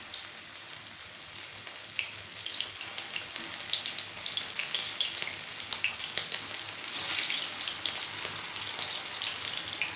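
Chicken pieces fry in hot oil over medium-high heat, a dense bright crackling sizzle that is constant and close, swelling slightly partway through, with no voices.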